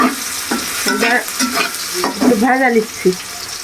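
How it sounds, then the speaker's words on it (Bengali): Fish being sautéed with onion and chili in a pan, with loud, close sizzling and repeated scraping stirs in an uneven rhythm, plus a few harmonic squeaks over the frying. "পেঁয়াজ মরিচ মাছগুলো একটু কষাই ভালো করে"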